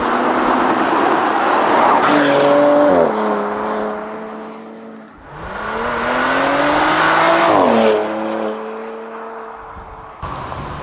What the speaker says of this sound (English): by pushing this button, the sports button, you hear the additional sound, and that's even more sports feeling with the exhaust sound